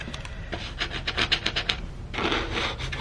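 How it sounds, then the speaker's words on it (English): The edge of a card rubs washi tape down onto paper in a desk planner, making quick scratchy back-and-forth strokes, close and fairly loud, then a steadier, broader rub toward the end. "rub that in with the end of this card in hopes that that helps it stay stuck"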